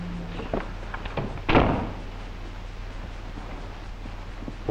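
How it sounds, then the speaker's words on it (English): A door closing in a 1930s setting, heard as a single dull thunk over steady room hum, fairly close, with no one speaking. "Close the door."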